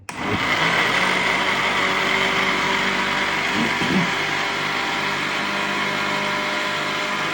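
A blender motor whirs loudly and steadily from start to finish, a dense high-pitched drone with no pauses, blending ground beef.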